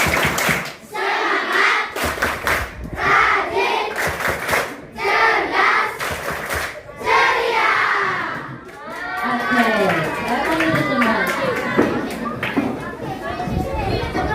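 A group of schoolchildren claps in rhythmic bursts while chanting together loudly in Indonesian, followed by excited shouting and chatter from the crowd.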